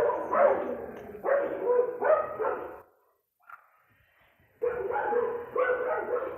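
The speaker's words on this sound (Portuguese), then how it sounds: "cachorrada passando ali, ficam loucos" Several dogs bark excitedly as they pass by, in loud, yapping bursts. The barking breaks off into a short near-silent gap, then resumes just as strongly.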